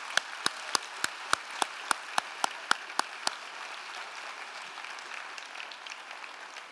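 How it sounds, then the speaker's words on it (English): An audience at a student competition finals event claps for judges, with about twelve crisp, evenly timed claps in a steady rhythm before they stop and leave a quiet hall with faint murmurs. "Please give a round of applause for our 3 distinguished judges."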